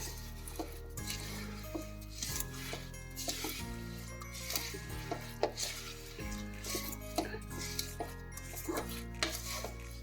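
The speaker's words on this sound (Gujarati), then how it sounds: "ગેસને બંધ કરી દેવાનો અને સારી રીતે હલાવી લેવાનું છે" Sesame chikki mixture of sesame seeds and jaggery being stirred in a pan, with repeated scraping and clinking of a spoon against metal at a close, irregular rhythm and a low hum underneath.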